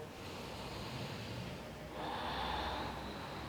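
A pet named Mali snoring nearby during a quiet yin yoga session, a soft steady rasping breath that grows a little louder and fuller partway through, with no talking.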